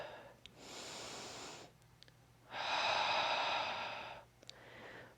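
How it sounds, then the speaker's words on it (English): Deep yoga breathing, two long audible breaths, each a slow airy inhale or exhale lasting a second or more, with a quiet gap between them and small sniffs around them. "And breathe."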